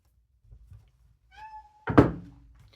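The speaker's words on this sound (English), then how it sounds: "It's my kitty." A pet cat gives a short rising meow, followed by a louder, sharper meow right after a dull thump, close and clear in a quiet room with faint soft bumps before it.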